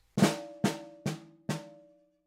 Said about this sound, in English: flam accent, we get flam, bounce, left, right.